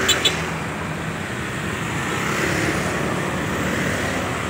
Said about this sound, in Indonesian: banyak sekali ya mobil-mobil pribadinya kawan-kawan, berhenti lagi dan kena lampu merah lagi, dan ada antrian lagi mobil-mobilnya ya